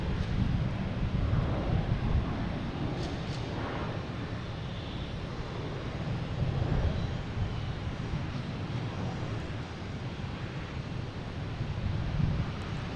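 Jet airliner departing Boston Logan for London Heathrow, a loud broadband engine roar mixed with wind buffeting the microphone, steady and close from start to finish.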